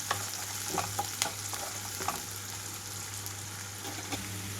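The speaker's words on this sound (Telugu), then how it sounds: "ఇక్కడైతే ఉల్లిపాయలన్నీ వేగిపోయినాయండి" Onions and green chillies fry in a pan for a yellow cucumber and prawn curry, giving a steady, even sizzle with faint crackles throughout and no talk.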